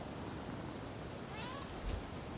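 In the video game Rise of the Ronin, a cat gives one short, fairly quiet meow over soft steady game ambience.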